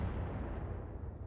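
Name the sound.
ammo explosion of a mech in Roguetech video game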